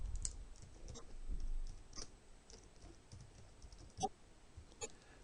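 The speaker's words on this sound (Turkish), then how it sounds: "kullanıcının adını soyadını yazıyorum" A computer keyboard as a user's first and last name is typed into a system: soft, irregular key clicks at close range, quiet, with a few sharper taps standing out.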